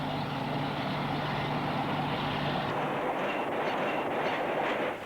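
A British Rail Western diesel-hydraulic locomotive arrives at Paddington with a broad rumbling roar and wheel noise, loud and steady throughout, the engine drone easing partway.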